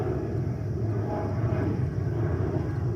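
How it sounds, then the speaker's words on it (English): A JetBlue A321 jet departing JFK airport produces a continuous deep engine roar, steady and moderately loud, heard alone without speech. "And the next departure is already here. That is JetBlue 321."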